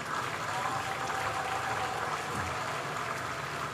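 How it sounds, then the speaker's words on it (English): A crowd at the Lagos State fire service vehicle inauguration gives a steady, dense round of applause, with voices faintly mixed in. "You deserve a big round of applause."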